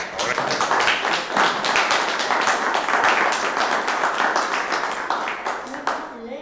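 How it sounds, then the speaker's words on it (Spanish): Applause from the audience at the launch of an oral cancer early-diagnosis campaign: a dense, steady wash of many hands clapping together, sustained at even strength throughout and fading slightly at the end. "creo que se merece un aplauso"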